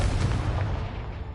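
Confringo blast spell exploding in Hogwarts Legacy: a short, heavy booming burst that rumbles and decays over about a second, loud and close, with no talking.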